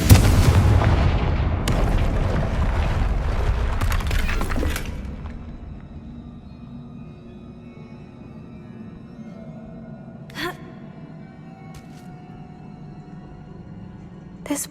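A Confringo spell goes off in Hogwarts Legacy with a loud, crashing explosion and shattering debris that rumbles for several seconds before settling into quiet ambience, followed by a couple of faint later impacts.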